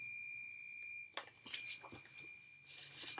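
A single steady electronic beep, like an oven timer, holds for about a second, then gives way to quiet clattering and rustling.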